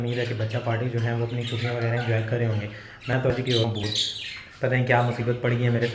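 Pet budgerigars chirp and squawk indoors in a steady background chatter, running continuously beneath someone talking throughout.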